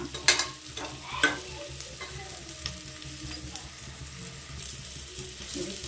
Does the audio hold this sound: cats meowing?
no